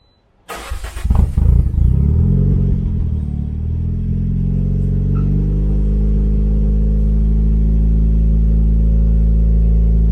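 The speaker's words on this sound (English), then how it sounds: "that exhaust is so much quieter" A turbocharged Toyota Corolla engine cranks and starts, then settles into a steady, deep, muffled rumble through a 3-inch custom exhaust with muffler that continues evenly.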